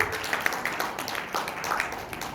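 Applause from a church congregation after a sermon appeal, a steady wash of overlapping claps at moderate distance that holds evenly throughout with no voices over it.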